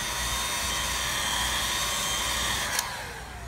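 A heat gun blows hot air onto vehicle wrap vinyl, making a steady, close, breathy whoosh with a high whine that holds evenly for a few seconds and eases slightly at the end.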